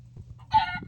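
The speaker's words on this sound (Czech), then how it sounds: "Ďábelský kuře." A Minecraft chicken gives a short burst of clucking, a single brief squawk over quiet game background noise.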